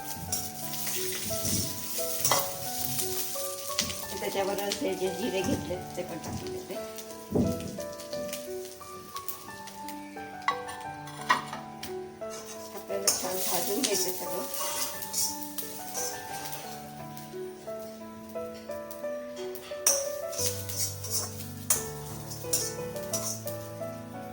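Peanuts in their skins and green chilies fry in a pan over a very low flame, giving a soft, continuous sizzle and crackle with occasional light clinks, heard faintly under background music.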